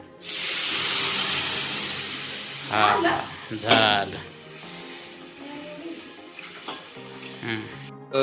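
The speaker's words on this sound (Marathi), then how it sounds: "हे बेसनचं पाणी याच्यात टाकून घ्यायचं" Gram flour batter hits a hot pan with a loud, steady sizzle for a couple of seconds, then bursts of stirring and scraping follow as the frying eases, with a brief spoken word near the end, in a home kitchen.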